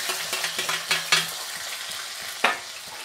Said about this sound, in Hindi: इसमें मेथी डाल देते हैं।